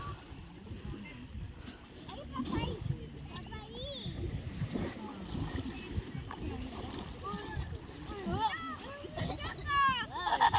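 Sea water splashes around a person wading in at Playa Los Chilcos beach, with irregular close splashes and gurgles under steady conversation between a woman and a child.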